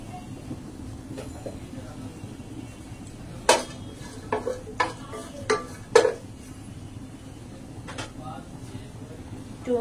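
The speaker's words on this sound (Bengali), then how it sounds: "নেড়ে চেড়ে দিয়ে দিচ্ছি আমি" Khichuri being stirred in a cooking pot, with intermittent clanks and scrapes of a spoon against the metal over a low background hum.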